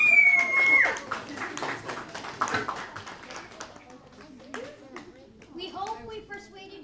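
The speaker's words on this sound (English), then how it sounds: "let's give a big applause for both Kajal and Arnav." An audience claps after speakers at a speech event, a short burst of applause fading under a voice that talks over it.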